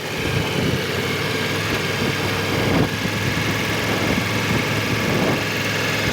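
A motorcycle engine runs during slow circle and figure-eight riding maneuvers, giving a loud, steady, close drone with an even rumble throughout and no voices.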